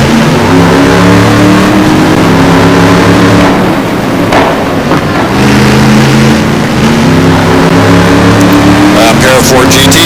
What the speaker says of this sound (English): A pair of Ford GTs battling it out